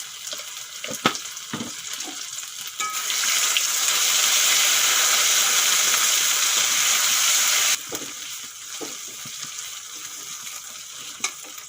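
Ginger, garlic and pepper paste hits hot oil in a pan with curry leaves and turmeric, bursting into a loud, steady sizzle for several seconds before settling to a quieter crackle with occasional stirring clinks.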